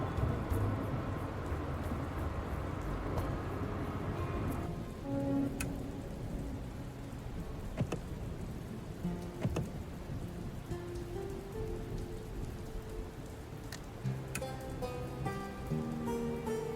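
Steady light rain patters through a post-apocalyptic trucking game, a continuous soft hiss with scattered drops, mixed under quiet game music and occasional clicks, with no one talking.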